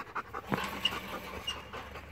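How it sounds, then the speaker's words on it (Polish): A shepherd dog pants close by in quick, breathy, rhythmic puffs, steady and fairly quiet, with no voices over it. "Bardzo fajny piesek."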